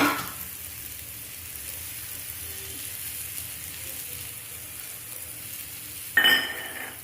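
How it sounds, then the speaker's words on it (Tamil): Chilli powder stirred into mango pickle in a pan with the stove switched off, Tirunelveli-style, giving a soft steady scraping hiss close by, ending in a brief sharper clink of the spoon against the vessel. "ஸ்டவ்வை ஆஃப் பண்ணிவிட்டு இந்த மிளகாத்தூளை நான் சேர்த்துக்கிட்டு அப்படியே போட்டு கிண்டிடணும்"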